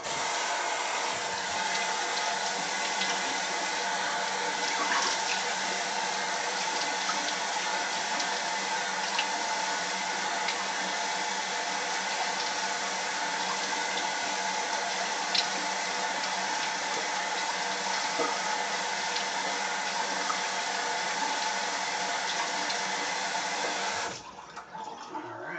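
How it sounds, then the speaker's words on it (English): A cold water rinse during a straight razor shave, a steady close rush of running tap water flowing continuously for about twenty-four seconds before stopping abruptly. "Quick cold water rinse."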